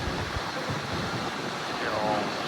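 Strong wind buffets the open coast at Natural Bridge, Aruba, roaring steadily and loudly close to the microphone, with waves rushing on the rocks beneath.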